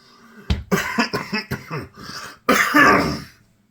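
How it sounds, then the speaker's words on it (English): A sharp burst followed by a short run of harsh, raspy coughs, then one louder, drawn-out cough, close and clear with no talk around it. "Forgive me for that cough."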